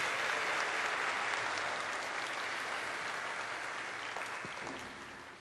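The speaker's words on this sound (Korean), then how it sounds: "큰 박수와 한호성으로 맞이하겠습니다" Audience at a university retreat opening worship service greets a pastor with sustained applause filling a large hall, dense and even at first, then slowly thinning toward the end.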